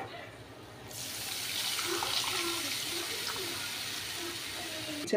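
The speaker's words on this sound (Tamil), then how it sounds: "நம்ம புளி தண்ணியை ஆட் பண்ணிக்கோங்க" Tamarind water is poured into masala boiling in a pot while making vendhaya kuzhambu, a steady rushing pour of liquid that rises after a quiet start and continues alone, with a faint bubbling underneath.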